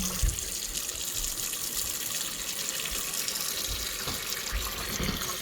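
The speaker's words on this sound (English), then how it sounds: "refill it with hot water again" Hot water runs steadily from a tap into a basin to refill it for rinsing a dog hair scarf being made, a constant rushing hiss with no pauses.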